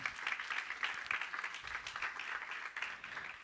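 A church congregation applauding with dense, sustained hand clapping, steady and moderately loud, with a faint murmur of voices underneath.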